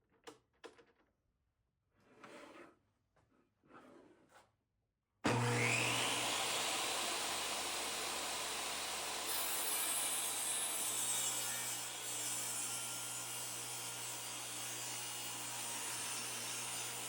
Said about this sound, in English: So we're gonna rip that down here on the table saw.